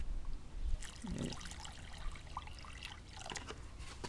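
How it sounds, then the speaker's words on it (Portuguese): Water is poured slowly from a half bucket into a sand and cement mix for a plant pot, giving a soft, faint trickle and splash that comes in short uneven bursts, with no voices. "Eu vou acrescentando essa água aos poucos."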